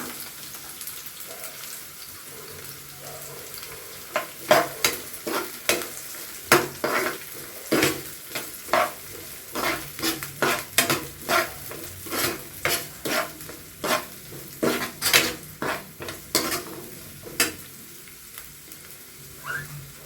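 Onions fried with green chillies in a pan for pepper chicken, stirred steadily with a spoon: a soft sizzle runs throughout while regular scraping strokes and clicks repeat close by.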